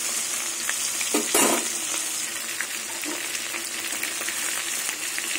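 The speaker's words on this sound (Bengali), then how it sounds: "তেল গরম হয়ে গেছে, এবার মাছগুলো ছেড়ে দেবো। মাছগুলো ভালো করে ভেজে নেব।" Rohu fish pieces are frying in hot mustard oil, a steady close hiss and sizzle throughout, with a brief louder splatter and crackle as the fish is stirred.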